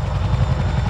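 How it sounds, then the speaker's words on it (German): A Boeing CH-47 Chinook helicopter flies a display at an air show, its rotors throbbing loud and close in a dense, continuous low beat. "This aircraft is such a next generation version of the Chinook, if you like, the most modern version."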